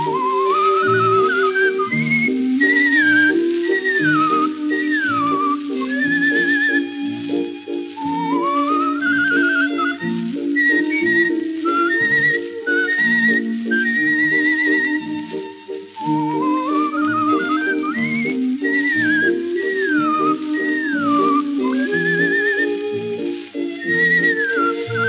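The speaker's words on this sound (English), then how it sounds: "whistling his famous signature tune" A performer whistles his famous signature tune on a variety stage, a loud, clear and continuous melodic whistle with sliding notes over a steady piano and band accompaniment.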